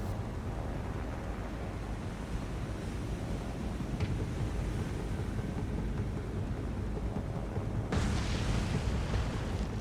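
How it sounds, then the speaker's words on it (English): Bombs burst during a naval battle in the War on the Sea video game, a steady heavy roar of rumbling explosions and splashing with a sharp crack near the middle and a louder blast toward the end. "Bombs."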